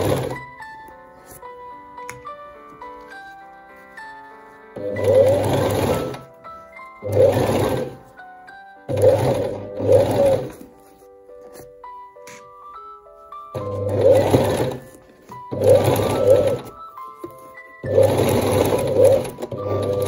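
A sewing machine stitches a seam in recycled fabric for a bag, running in loud bursts of rapid whirring broken by pauses, with soft music audible between runs.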